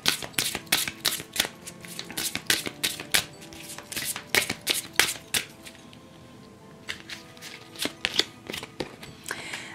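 Tarot cards shuffled by hand in bursts of quick, crisp riffling flicks, close and fairly soft, with a short pause before the riffles resume.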